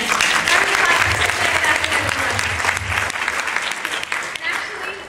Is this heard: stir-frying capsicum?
no